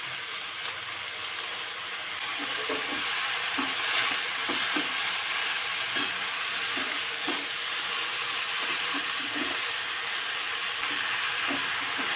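Wild leafy greens stir-frying in a hot pan for a rustic village-style dish, a steady loud sizzle and hiss throughout, with faint stirring clicks now and then and no talking.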